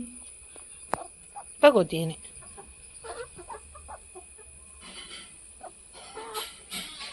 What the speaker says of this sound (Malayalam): നമ്മുടെ കുഞ്ഞുവിൻ്റെ പാത്രത്തിലാണ് കോഴിപ്പിള്ളേർ കയറി നിൽക്കുന്നതൊക്കെ